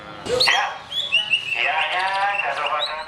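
Songbirds chirp and trill with varied, harmonious phrases at a bird-song contest in Yogyakarta, several bright overlapping calls sounding close and loud without pause.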